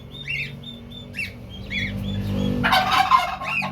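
Turkeys and turkey chicks gobble and chirp in repeated high, warbling calls, close by, with a burst of louder squawking near the end.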